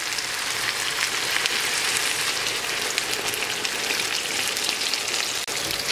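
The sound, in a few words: water added to frying fish sauce in a pan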